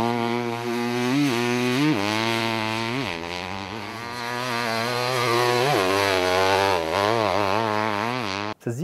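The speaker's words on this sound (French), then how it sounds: "Première prise de contact avec ce monocylindre Honda gigantesque." A huge old Honda 500 CR single-cylinder motorcycle engine runs loud and close, its revs rising and falling in repeated blips with a rough, pulsing exhaust note, ending in a sudden cutoff.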